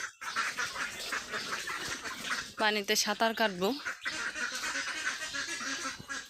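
Ducks quack in a burst of several loud, close calls before heading into a river, surrounded by a person speaking and outdoor background noise.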